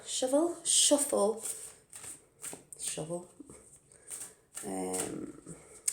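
Cards being shuffled in quick riffling bursts, with a person talking over and between the shuffles.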